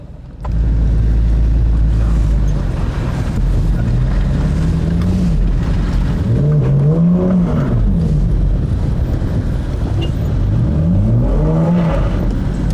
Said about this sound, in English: It stalled, revived, spin the wheels, stalled, revived, spin the wheels.